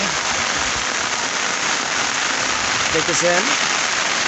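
Light drizzle falls steadily during net fishing on a river after a broken embankment, a constant dense hiss of rain that fills the whole stretch, with someone speaking briefly over it.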